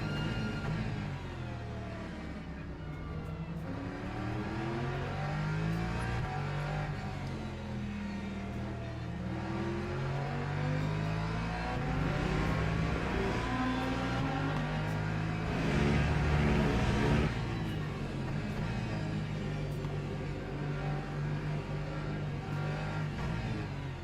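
A Lexus GT3 race car in a racing video game at Paul Ricard holds a loud, continuous engine drone that rises and falls in pitch through gear changes and revs across the whole stretch, with no talk over it.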